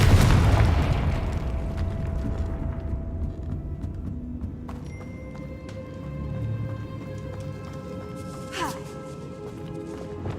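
The Confringo blasting curse in Hogwarts Legacy bursts with a loud, booming explosion that decays into a long rumbling tail, followed by creaks and ringing tones.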